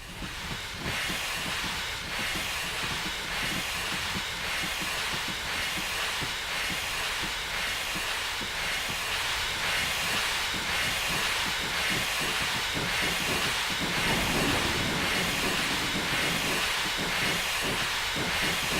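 A Collett goods steam locomotive in a train simulator game, on the Riviera Line in the 1950s, releases its brake with a loud, continuous hiss over a rhythmic rolling clatter that builds slightly toward the end.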